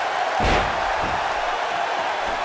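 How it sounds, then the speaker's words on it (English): A clubbing blow lands in a WWE 2K18 Last Man Standing wrestling match between Randy Orton and AJ Styles, one heavy thud early on, with a noisy arena crowd roaring steadily throughout. "A clubbing blow."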